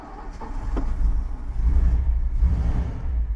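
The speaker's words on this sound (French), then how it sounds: "vous avez immédiatement le V8 qui ronronne" A 1957 Ford Thunderbird's 312 cubic inch, 5.1-litre V8 rumbles at idle just after starting, a steady low throb held at close range with no talk over it.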